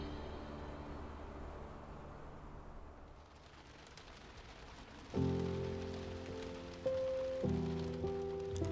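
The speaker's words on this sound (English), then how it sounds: "As raindrops fell gently on our tent, we were slowly awakening" Rain patters steadily on a tent at a wild campsite on the Kungsleden trail in Swedish Lapland in September. The soft, even hiss is close and continuous, and music joins partway through.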